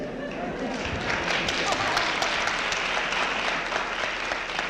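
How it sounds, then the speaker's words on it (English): An audience at a spoken talk breaks into steady, dense applause, a broad wash of many hands clapping that holds at an even level for the whole stretch. "Why do you clap?"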